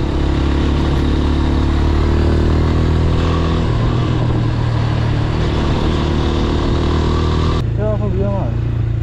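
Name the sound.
sport bike motorcycle riding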